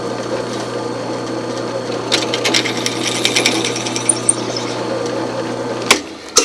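A drill running at very low speed turns a bit through threads in wood, a steady mechanical whir with a low hum, joined midway by rapid rattling chatter as the bit cuts, ending with a brief clunk.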